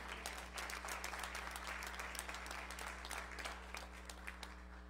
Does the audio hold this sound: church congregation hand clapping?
yes